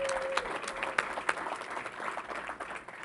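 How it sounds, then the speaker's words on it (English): People at a state government COVID-19 press briefing give a round of applause. The clapping is moderate and steady, with a few sharper claps standing out, and lasts about three seconds. "We have to give him a round of applause."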